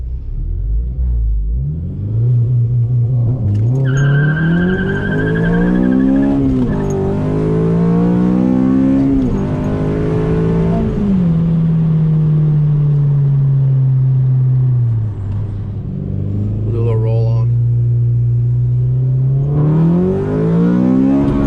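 A K20-powered 8th-generation Honda Civic Si launches hard on launch control, its four-cylinder engine revving loud and close, climbing through gears with brief dips at each shift across the run, with no talk.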